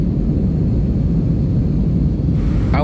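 Steady low cabin rumble inside a passenger airplane in smooth flight, a constant broadband engine and air drone with no talking.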